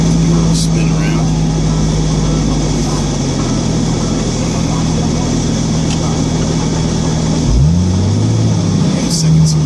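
A car engine drones steadily and loudly while the car spins around in deep snow in a parking lot during a 2016 blizzard, with a pitch shift near the end as the engine revs.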